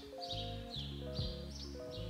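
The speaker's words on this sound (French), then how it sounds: "On entend les oiseaux dehors." Birds chirp outside, heard from inside a Paris living room. Faint, quick chirps repeat about every half second over a steady low hum.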